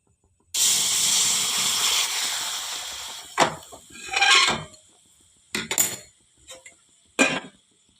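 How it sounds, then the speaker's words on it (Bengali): Milk and flour sauce for chicken dynamite coming to a boil in a pan, a steady hiss with bubbling from the start, then brief clinks and scrapes of a spoon against the pan in short bursts. "দেখো সসটা আমাদের ফুটতে শুরু করেছে।"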